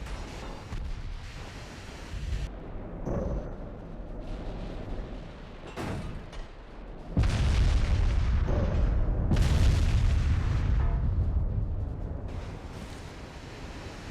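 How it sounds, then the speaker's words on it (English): Heavy booming naval gunfire explosions and rolling artillery blasts from a warship combat video game, loud and dense, with long rumbling tails swelling into a sustained roar toward the end. "Oh, some big explosions there."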